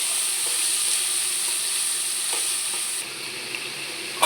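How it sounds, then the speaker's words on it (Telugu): Bottle gourd pieces fry in a pan with green chillies and curry leaves, a steady close sizzle running throughout with a few light stirring clicks and a brief knock near the end. "వేగుతుందండి బాగానే"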